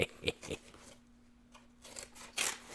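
A few crisp scissor snips and crunches on stiff packaging, spaced irregularly with short pauses between cuts.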